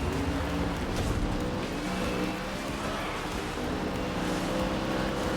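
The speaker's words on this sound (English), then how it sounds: "I had to really mess with the engine sounds" Race car engines roar in the racing video game GRID Legends, a dense, continuous, high-revving drone that stays loud and steady throughout with no pauses.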